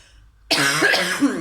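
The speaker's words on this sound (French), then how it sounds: "à chaque fois je tousse" A single sharp cough bursts out of near silence, followed by a rough, throaty rasp as the breath is cleared.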